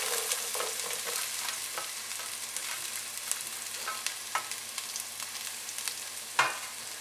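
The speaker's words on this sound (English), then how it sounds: "So our ghee is frying." Ingredients frying in ghee for a North Karnataka garlic chicken curry, a steady soft sizzle throughout with scattered crackles and stirring clicks, one louder clatter near the end, no voices.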